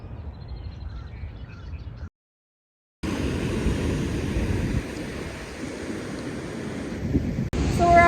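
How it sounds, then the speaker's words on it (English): Strong northeast wind roars across the microphone beside an inlet with huge surf, a dense, continuous rumble that cuts out abruptly for a second, then returns just as loud. "Waves are huge. Strong northeast winds."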